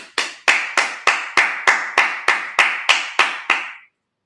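About a dozen sharp, evenly spaced claps ring out one after another during a Sabbath service, each a crisp close hit with a short reverberant tail, keeping a steady rhythm before stopping abruptly.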